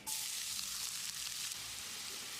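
Loud, steady sizzling of food frying in hot oil, a bright continuous crackle with occasional stirring, no voices.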